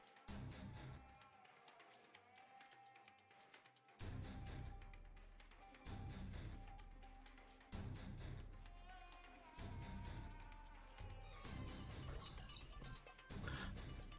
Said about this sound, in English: How many fucking birds? They're just flying around.